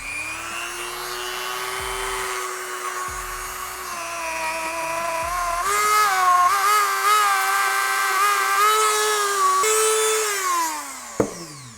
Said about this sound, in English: So we're at the point where we're gonna get our Dremel going.